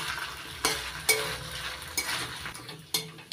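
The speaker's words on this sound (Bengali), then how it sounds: "কাঁচা লঙ্কা আর আদা বাটা দিয়ে ভালো করে কষিয়ে নিতে হবে।" Green chili and ginger paste sautéing over a low gas flame for a vegetarian banana-flower curry (mochar ghonto): steady close sizzle and frying hiss, with several sharp scrapes and clinks of a spatula stirring the pan.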